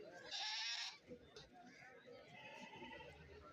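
At a goat market, a goat lets out one loud bleat up close, followed by a quieter stretch of murmuring voices and faint livestock noise.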